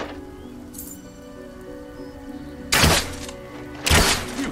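Cardboard targets being shot in the Xbox 360 game Fable 2: two loud, sharp hits land about a second apart near the end, with steady game ambience and music underneath.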